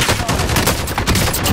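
Rapid, loud automatic gunfire in a Call of Duty game, a continuous close stream of shots with no pause.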